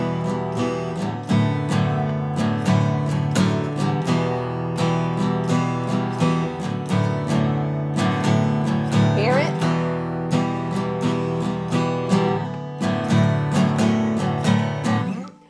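An acoustic guitar plays the rhythmic strumming pattern of a song, with steady repeated strums that ring close and loud, continuous for about fifteen seconds before stopping.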